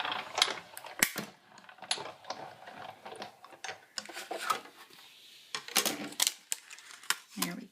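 A die-cutting machine is cranked to cut a plain square of cardstock, giving close, uneven mechanical clicks, ratcheting snaps and gear-like clatter throughout.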